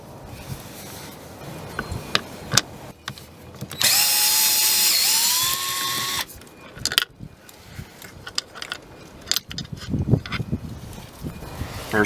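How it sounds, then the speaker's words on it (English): A DeWalt gyroscopic cordless screwdriver drives a 10mm bolt while a Ford Flex door lock is repaired, with one loud whining motor burst of about two seconds amid close clicks and handling clatter of tools and parts. "Today I'm using a DeWalt gyroscopic technology screwdriver."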